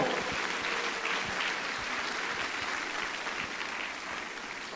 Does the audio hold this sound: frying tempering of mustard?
no